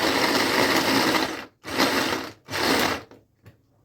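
A blender whirs through tomatoes with a splash of vinegar for a chicken kabsa sauce, running in three loud pulses with brief pauses before cutting out, close and with no talking.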